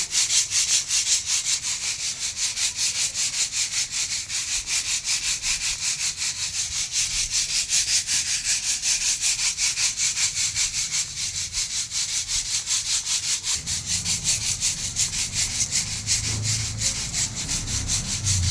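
Toor dal is ground on a stone hand mill, a continuous rhythmic gritty rubbing and rasping that churns steadily in rapid rotations at close range throughout, with no talking.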